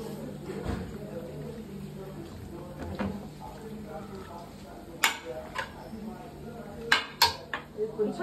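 Chicken being mixed with chopped coriander in a pot, heard as faint intermittent clinks and scrapes of a utensil against metal, with a few sharper knocks later on under a quiet kitchen background.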